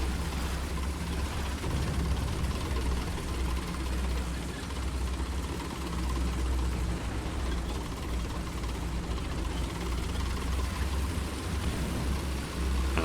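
V8 engine of a vehicle in War Thunder, a steady low rumbling drone with mechanical clatter, held at an even loudness throughout without clear revs.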